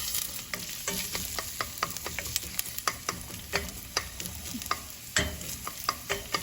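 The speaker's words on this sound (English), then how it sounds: "now while this is starting to saute" Chopped onions sizzle steadily in a pan over medium heat for minestrone soup, with a utensil scraping and stirring in a loose, repeated rhythm close by.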